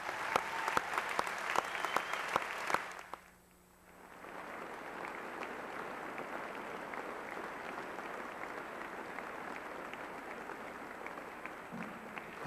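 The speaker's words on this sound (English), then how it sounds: "let's give them another round of applause" A large audience applauds at the North Penn High School Class of 2000 senior awards. A steady wash of clapping briefly dips into a quiet gap, then swells back as continuous, moderately distant applause with no voices over it.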